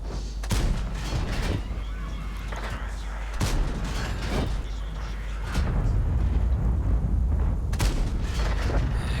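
Tank cannons fire in a tank video game, several heavy booms spaced a few seconds apart over a constant low engine rumble, loud and close, with no voices.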